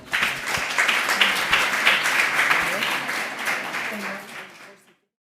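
An audience at a pediatric dermatology talk applauds as the speaker takes the floor, with brisk, fairly close clapping and some murmuring voices, tapering off and ending abruptly.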